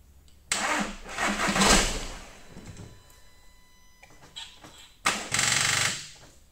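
A car being started with a jump starter booster such as a Topdon JS2000 or JF EGWO 1000A: two bursts of engine cranking and catching, the first running a second or so before fading, the second cranking hard again, close by.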